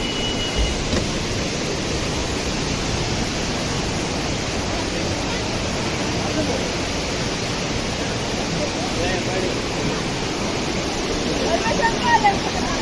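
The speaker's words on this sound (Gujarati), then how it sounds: "આ ધોધ પડે છે, ત્યાં જોવા જવું છે." Sahastradhara waterfall near Mussoorie roars continuously, a loud, steady broadband rush of falling water heard close up that barely varies for over twelve seconds.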